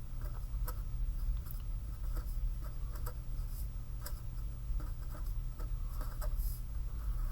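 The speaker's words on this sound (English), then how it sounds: "And so let's write this down." Marker or chalk writing notes on a board in a classroom, a run of quick, close taps and strokes over a low steady hum, with no talking.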